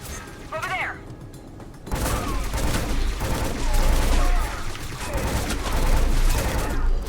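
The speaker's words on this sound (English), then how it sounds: "This is a burst fire weapon." Gunfire in the game Scourge Outbreak: a burst-fire weapon crackles in rapid repeated short volleys after a quiet opening, loud and continuous with mechanical clatter, under a voice talking.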